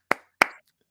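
Two sharp, close hand claps about a third of a second apart, each with a quick fading tail, then silence, applauding the Boston Celtics' 40-point fourth quarter that stole game one in San Francisco.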